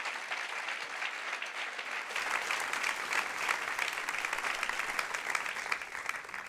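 A church congregation claps to acclaim the Lord, with sustained, dense applause from many hands that swells slightly and carries on steadily without speech.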